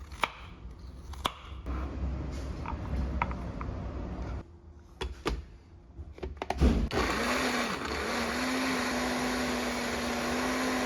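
A mixer grinder works on ginger and garlic paste in a home kitchen, with intermittent knocks and bursts early on, then a steady loud whirring drone for the last few seconds.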